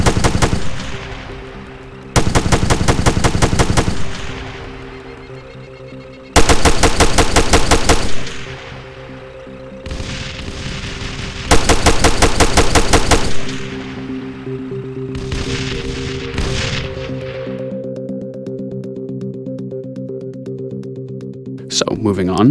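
Several loud bursts of machine gun fire from the video game Arma 3, firing in rapid rattling volleys separated by pauses, layered over a steady droning background hum and music-like tones.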